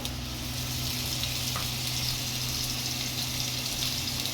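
Garlic paste with cardamom sizzles in hot oil as a constant, close crackling hiss with a low steady hum under it, and no voices.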